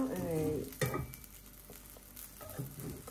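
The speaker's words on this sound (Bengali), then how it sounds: "আর এই যে আলু ভাজি করুন।" Potatoes for aloo bhaji fry in a pan, a continuous soft sizzle and stirring under a voice that talks briefly at the start.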